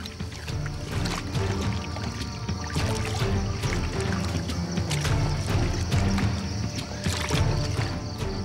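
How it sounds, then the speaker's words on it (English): A boat moves slowly along a jungle waterway in Guyana, with a steady churning drone and water sloshing, mixed with scattered knocks and splashes, continuous and fairly close. "The boat inches forwards."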